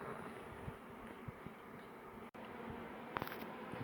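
Honey bees swarm over the comb of a large, crowded beehive as it is worked with smoke, giving a soft, steady buzzing hum close by, with a few faint knocks and a brief dropout partway through.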